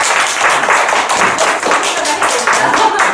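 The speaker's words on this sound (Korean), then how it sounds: "박수 한번 크게 쳐주세요" An audience at an academic forum on filial piety in Jeollabuk-do claps loudly and steadily, dense close applause filling the few seconds without pause.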